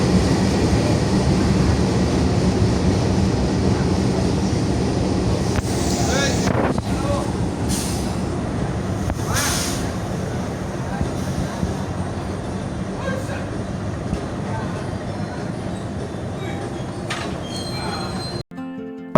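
A train arriving at Gambir station in Jakarta rumbles steadily at close range with a broad, continuous roar, brief metallic squeals and clanks rising over it, and faint voices underneath.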